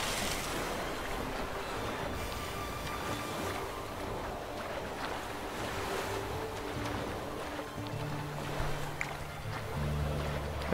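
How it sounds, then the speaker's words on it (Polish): Swimming through water in The Witcher 3 video game, a continuous wash of surf-like sloshing and splashing with airy wind noise, steady and moderately loud throughout with no talk. "Popływamy sobie."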